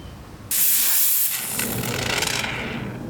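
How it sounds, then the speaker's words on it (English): Spray foam hisses from a can into gouges on a carbon fiber flat-bottom steering wheel, a sudden loud airy spray that starts sharply and holds steady before tapering slightly. "I'm just going to take some of the spray foam stuff and go ahead and fill that in."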